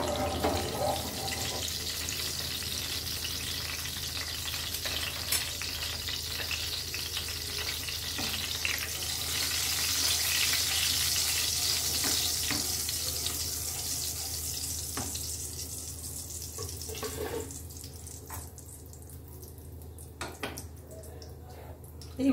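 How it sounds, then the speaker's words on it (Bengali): Spices are tempered in hot mustard oil in a kadai, a broad close sizzle that swells and hisses steadily, then thins out with scattered scrapes and clinks. "কড়াইতে সর্ষের তেল দিয়েছি, এইবার এতে ফোড়ন দেবো"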